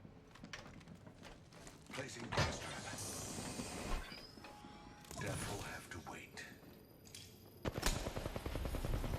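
Rapid bursts of gunfire and sharp mechanical clatter in a multiplayer shooter, dense and loud, with someone talking briefly over the action.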